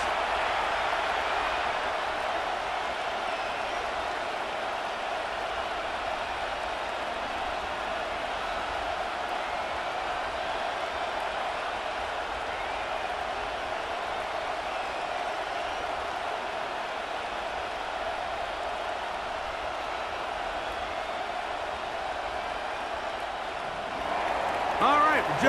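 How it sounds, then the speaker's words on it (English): Steady stadium crowd roar from the Madden NFL 26 video game before a Carolina Panthers versus New England Patriots matchup, a continuous broad wash of noise at even loudness that swells briefly near the end. "Just about set for football. The crowd is definitely ready."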